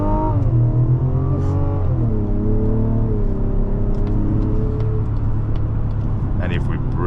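A 2025 Mazda CX-90 seven-seat family SUV with an eight-speed gearbox pulls away in first gear. The engine drone rises and sags steadily beneath a person talking, then fades into road noise.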